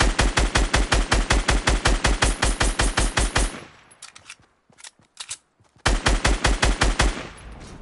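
Rapid automatic gunfire in a video game as a player shoots something down, loud and close in steady rhythmic bursts, then a short gap with a few scattered shots before the fire resumes.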